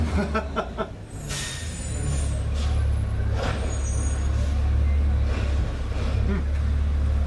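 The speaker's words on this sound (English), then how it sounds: "Garbage truck in the background." A garbage truck collecting recycling rumbles steadily in the background and lets out a few short hisses of its air brakes, moderately distant.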